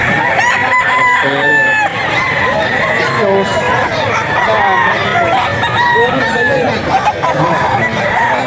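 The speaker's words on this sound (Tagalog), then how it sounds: "Sabi na pare, kanta si Canterito." A rooster crows loudly and repeatedly at a busy pet market in Bocaue, with other fowl clucking and crowd chatter and voices in the background.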